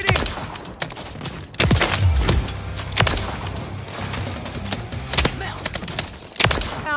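Gunfire in Call of Duty MW3 multiplayer: sharp, loud shots arrive in scattered bursts and single cracks, some close and punchy, with quieter game noise between them and no talking.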